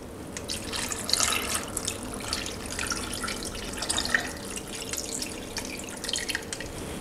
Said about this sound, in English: Add enough water to cover the meat.